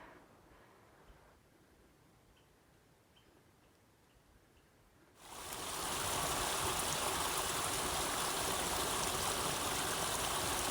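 Flowing water near the headwaters of Cold Mountain Creek in Yellowstone. A faint background wash suddenly swells halfway through into a loud, steady rushing roar close by.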